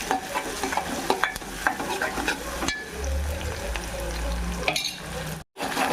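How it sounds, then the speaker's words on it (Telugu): Onion pieces fry and sizzle in hot oil with cumin while being stirred for an Andhra-style spicy mutton curry, a steady close sizzle broken by scraping stir strokes, with a brief silent gap near the end. "కొంచెం వేడెక్కగానే ఉల్లిపాయ ముక్కలు, బాగా కొంచెం ఫ్రై చేసుకున్నాం."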